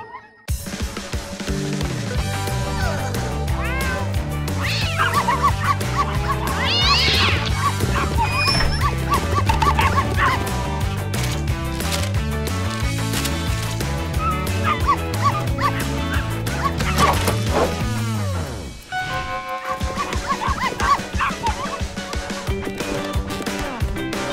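Cartoon puppies bark and yip nonstop in a busy chorus over music, with whimpers mixed in, followed by a brief lull and then more yapping.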